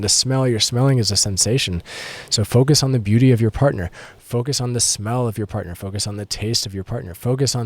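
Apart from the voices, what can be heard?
No distinct noise like a dog, phone or traffic.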